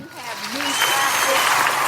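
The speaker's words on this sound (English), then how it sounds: "Can we give her a hand clap?" An audience claps, a burst of applause that swells quickly and holds steady, with a voice speaking briefly at the start.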